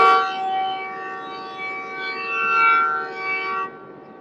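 The Pak Business Express sounds a long, sustained horn blast as it rounds a curve before Hyderabad Junction; the tone swells and dips for about four seconds, then cuts off.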